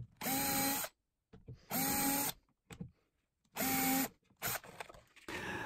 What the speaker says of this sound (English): this time we drill the three screw positions in the large leaf of the hinge